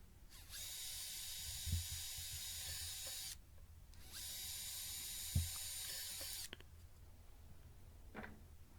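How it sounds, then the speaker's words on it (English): Two steady, high-pitched bursts of a drill boring pilot holes in scrap wood for a snowman decoration, each about three seconds, followed by a quieter pause and a faint click; fairly distant and soft. "So after drilling the pilot holes"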